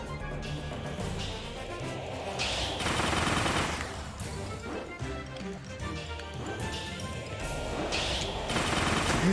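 Rapid gunfire rattles through Kirby and the Forgotten Land gameplay, bursts of repeated shots running for several seconds amid game effects and crashes, loud and continuous.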